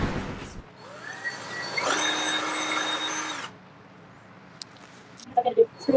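A power drill boring pilot holes into a wooden crate bench, one steady whirring burst of about a second and a half that stops abruptly, followed by quiet handling noises and brief talk.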